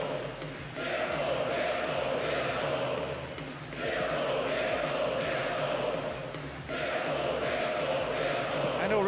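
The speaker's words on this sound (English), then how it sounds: "the crowd at fever pitch, lending so much to the spectacle. Noise level high from the start" Continuous stadium crowd roar from a PES 2009 football video game, a steady dense wash with slow swells, heard at moderate level without clear speech on top.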